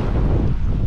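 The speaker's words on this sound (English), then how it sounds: "Ooh, it's windy." Gusty wind buffeting the microphone by the water on a fishing shoreline during a hurricane mullet run, a loud low rumbling roar that fills the whole short moment without a break.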